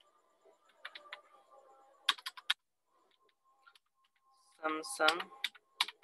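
Keys clatter on a computer keyboard in short bursts of quick presses and a few sharper clicks, close and fairly quiet, while a voice speaks intermittently between the typing.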